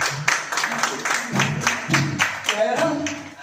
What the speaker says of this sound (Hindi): ताली तो बजाओ यार